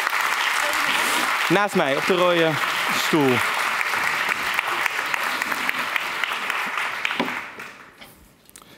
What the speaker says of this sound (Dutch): Geef er een warm applaus. Touria Meliani